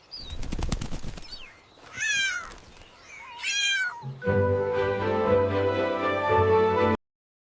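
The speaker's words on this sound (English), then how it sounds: "Meow meow." An animated 3D cartoon cat lets out a string of loud, close meows after a burst of rapid clicking, then a sustained bright musical tone takes over until abrupt silence.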